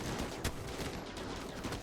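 Explosions and gunfire from a battle in the RimWorld video game, a dense continuous rattle of rapid shots with one sharper crack near the start.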